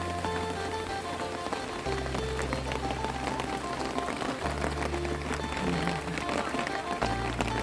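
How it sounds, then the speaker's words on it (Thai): Heavy rain pours down outdoors, a dense continuous hiss of drops striking surfaces mixed with the rush of running rainwater, loud and close throughout, with a steady low hum running underneath. "น้ำฝนน้ำมหาศาล"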